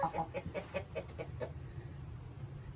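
A rooster clucks in a quick series of about eight short, rhythmic notes, then falls quiet into low background noise.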